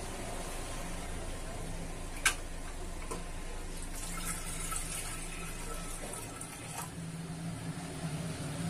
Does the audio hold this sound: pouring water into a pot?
yes